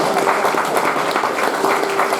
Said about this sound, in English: One more round of applause for her.